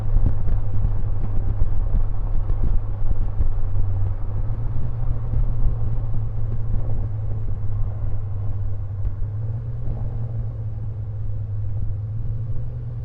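Steady low engine rumble from a Rewaco trike under way as the rider shifts down in sport mode, a continuous near drone with a gently falling pitch and no voices.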